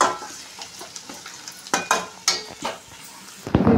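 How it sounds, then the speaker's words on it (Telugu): Okra frying in a pan while being stirred, with scraping strokes and clatters over a steady sizzle, close and fairly loud. "బెండకాయలు వేసుకున్నాక బాగా కలుపుకున్నాము."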